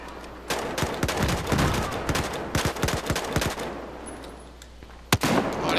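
Automatic rifle fire in the Battlefield 4 beta: rapid, loud bursts of shots crackling in quick strings, tapering off before one sharp, close single shot near the end.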